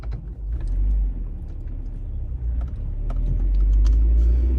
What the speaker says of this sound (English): we're driving down Emerald